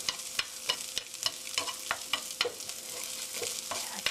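Onions stir-fried in a pan with chopsticks, a steady sizzle broken by regular sharp clacks and scrapes of the chopsticks against the pan, close and fairly quiet, with no talking.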